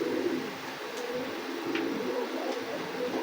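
Soft pigeon cooing blends into a steady background hum, with a few faint higher calls standing out now and then; no one speaks.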